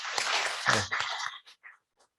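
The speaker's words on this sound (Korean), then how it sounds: "박수 보내드리시죠." Church congregation applauding prize winners at a service, a dense burst of clapping that swells then thins into a few scattered claps before fading out.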